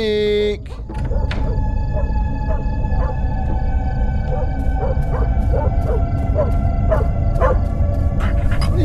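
A dog barks repeatedly in the horror video game Fears to Fathom: Carson House, with short bursts spaced through the clip over a steady ambient hum and several sharp high-pitched accents.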